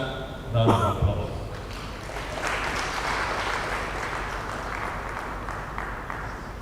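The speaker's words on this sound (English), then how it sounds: "Please, another round of applause" Audience applause at a regional business forum in Ghana's Northern Region, a steady moderate wash of clapping in a hall that follows a short voiced sound at the start and holds evenly to the end.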